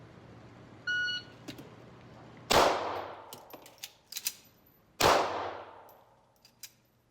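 Two loud, sharp gunshots from a MAC9 DS Comp pistol firing remanufactured ammunition at a shooting range, a couple of seconds apart, each ringing out with a decaying tail, with smaller clicks and clanks between and a brief electronic beep before the first.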